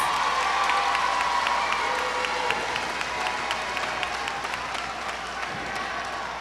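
A crowd at a high school graduation ceremony applauds the graduates, with sustained clapping mixed with scattered cheers and shouts, heard at a moderate distance and holding steady throughout.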